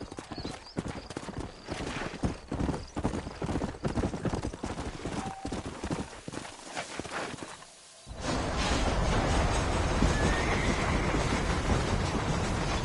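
Horse hooves clip-clop steadily in the Western video game Red Dead Redemption, a rhythmic close trot that runs on before a sudden shift to a dense, louder wash of ambient noise partway through.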